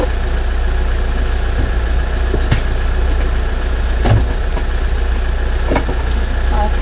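Car engine idles steadily during a driving lesson, a constant low hum throughout with a few small clicks and knocks from inside the cabin.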